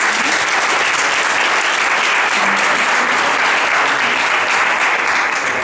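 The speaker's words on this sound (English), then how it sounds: "Can we clap for Evan, please?" A crowd at a clipper haircutting class claps steadily and loudly throughout, a dense continuous wash of applause with no pauses.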